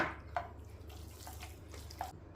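Water poured in small amounts into a cooking pan of pork loin with sauerkraut and cream, with faint intermittent splashes and trickles over a steady low kitchen hum.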